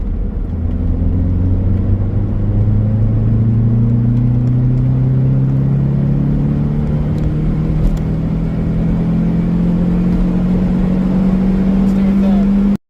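Toyota MR2 Roadster engine pulling in third gear at about 30 mph, a steady droning hum that rises slowly in pitch as the car gains speed, loud and continuous from start to finish.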